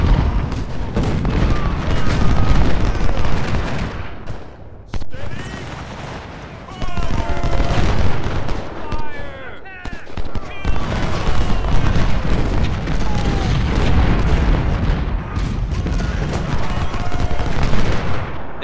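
Cannon and musket fire from a Civil War battle at Cedar Mountain in Ultimate General: Civil War, heard as a dense, continuous roar of overlapping shots and booms that stays loud throughout, with no clear pauses.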